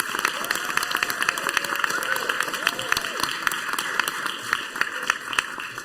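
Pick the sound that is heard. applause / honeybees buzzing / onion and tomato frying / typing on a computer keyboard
applause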